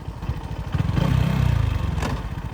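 A Lifan SR220 motorcycle engine revs hard toward high speed, a loud, rough mid-pitched roar that swells and holds before easing slightly, heard alone and close.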